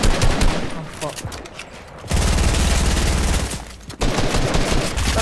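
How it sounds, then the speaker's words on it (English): Rapid gunfire in Fortnite, a squads match, with dense bursts of shots continuing throughout, loud and close, shifting to heavier sustained fire partway through. "They're trying to shoot me out in my box!"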